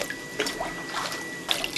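Underground spring water from the mountain range flowing in a home in Takashima near Lake Biwa, Japan: a gentle trickle with light scattered drips and splashes, close and fairly quiet, with no talk.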